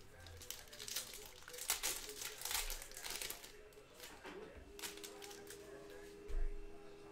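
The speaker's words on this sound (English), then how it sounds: "Let's print this out and rip the pack." A hobby pack of 2020 Mosaic football trading cards is torn and crinkled open close up, with bursts of foil tearing and rustling while a person talks over it.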